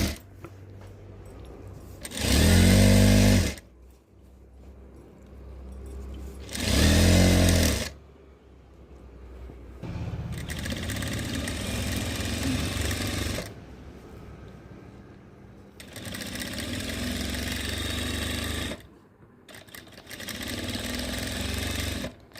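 A sewing machine stitches the folded hem of a frock nighty in loud, steady whirring runs, short bursts first and then longer stretches, separated by brief pauses.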